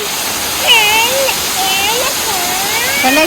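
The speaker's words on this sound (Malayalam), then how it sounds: "ഇതാണ് ഗായ്സ് പാലൂർക്കോട്ട വെള്ളച്ചാട്ടം" Palurkotta waterfall in Malappuram district pours with a steady, loud rushing roar while a person talks over it.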